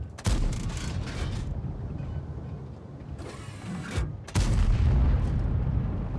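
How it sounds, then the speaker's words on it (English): A tank in a video game fires blind shots, two loud booms a few seconds apart over a steady engine rumble and mechanical clatter, heard close with no talk. "we're just going to be spamming a few blind shots in."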